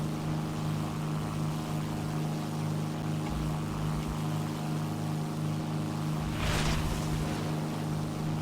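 A Messerschmitt Bf 110 twin-engine aircraft flying in the video game War Thunder gives a steady, droning engine hum throughout, with one brief rushing swell of air passing near the end.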